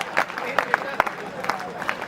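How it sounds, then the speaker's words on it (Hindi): An audience at a Hindi comedy poetry gathering claps, with scattered, uneven hand claps and crowd murmur rather than a full ovation, fairly faint and mixed with background chatter. "इस पंक्ति पे तो 3 लीटर तालियां बजाओ"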